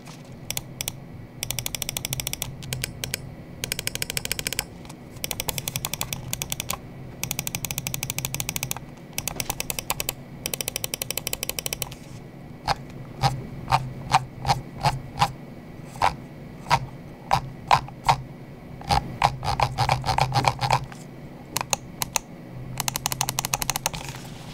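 Endgame Gear OP1w 4K gaming mouse buttons clicked repeatedly up close, sharp crisp clicks in rapid bursts and rolling runs, then slower evenly spaced single clicks, with no talking.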